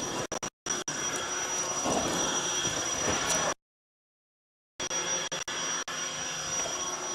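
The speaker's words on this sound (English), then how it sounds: "I'll turn off the pump." An electric air pump runs steadily as it inflates a SOLI Air sun canopy, a loud continuous whirring drone with brief interruptions, a short silent stop midway, then resuming.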